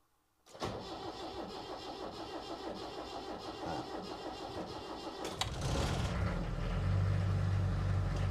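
A camper van's engine cranks briefly and catches almost immediately, then runs at a steady idle, its rumble growing louder and deeper after a few seconds.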